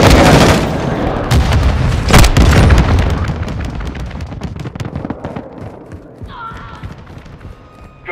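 Airstrike bombing run in Call of Duty: Modern Warfare II, a loud cluster of heavy booming explosions at the start that rumble and fade, with scattered gunfire and a brief radio-style voice near the end.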